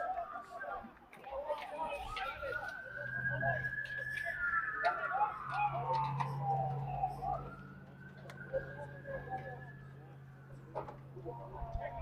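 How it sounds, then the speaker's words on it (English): A police siren wails with rising and falling sweeps in the distance, steady under crowd chatter and background noise at a soccer match. "A lot of activity in the Burnsville area with the sirens going."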